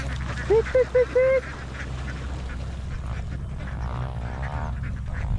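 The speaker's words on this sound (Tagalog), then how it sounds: "Uy, parang maliit yung mga itik natin ah" Ducks quack in a short run of about four nasal calls near a rice field, followed by steady outdoor background noise and a few fainter bird sounds, with no talk.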